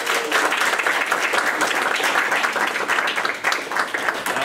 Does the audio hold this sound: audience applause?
yes